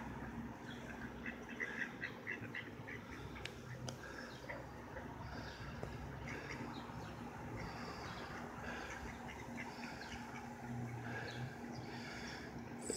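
Ducks quack now and then at Springlake on a hot Memorial Day, with scattered moderate calls over a constant outdoor wash of background noise.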